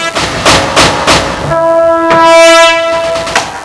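Train sound effect on a stage: rhythmic chugging wheel beats give way to a loud, sustained multi-tone horn blast, with the clatter continuing beneath it.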